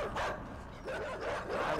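Dogs barking in the side-scrolling video game Inside, a continuous run of loud, close, urgent barks and yips with no pause between them.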